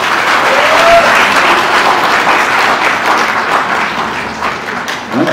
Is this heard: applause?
yes